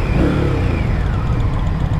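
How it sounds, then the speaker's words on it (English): A 2023 Indian Scout motorcycle engine revs up loud and close, a dense low rumble with a rising pitch sweep early on, then holding a steady growl. "When you rev it up, it does give you a little bit of a rumble there."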